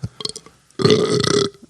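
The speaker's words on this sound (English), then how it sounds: "force a burp" A forced burp pushed close into a microphone, one loud, croaky belch lasting under a second, preceded by brief clicks and faint sounds.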